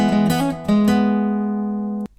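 A guitar chord riff played quickly: several fast picked notes with a hammer-on flourish, then a held chord ringing out before being abruptly muted, solo electric guitar with no voices.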